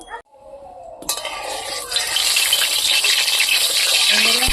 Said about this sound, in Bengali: কড়াইতে তেল দিয়ে দেই বেগুন ভাজার জন্য।